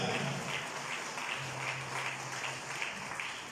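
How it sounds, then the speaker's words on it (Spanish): Church congregation claps in a sustained burst of applause, a steady wash of many hands that is fairly quiet overall, with a low hum running underneath. "Le damos palmas fuertes a Jesús por la redención de las almas"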